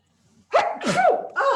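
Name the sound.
sneeze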